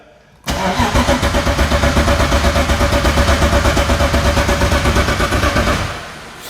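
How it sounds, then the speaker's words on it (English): A BMW M52 turbo engine on its first start cranks over with a loud, steady rhythmic churn that starts abruptly, runs for about five seconds and then winds down. "Alright, cranking over."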